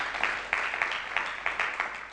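Audience applause at an Azerbaijani season-opening event, a short burst of moderately loud, rhythmic clapping from a crowd, sharp claps standing out above a steady patter.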